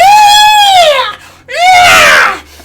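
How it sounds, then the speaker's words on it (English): A baby owlbear, a small beaked, feathered fantasy creature, lets out two loud, close screeches, each a rising then falling wailing cry with a short pause between. "You can hear a screeching of sorts as you look over."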